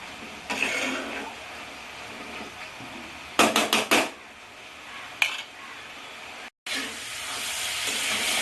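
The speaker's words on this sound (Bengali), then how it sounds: "এইভাবে বারবার নাড়তে নাড়তে বাঁধাকপিটাকে ভাজা করব।" Cabbage frying Bengali style in a pan as it is stirred again and again, a steady steamy sizzle with a few sharp scraping bursts from the utensil against the pan and a brief gap near the end.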